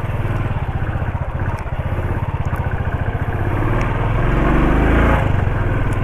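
A motorcycle engine idles and rumbles close by on a road, a steady throbbing drone that swells slightly louder toward the end.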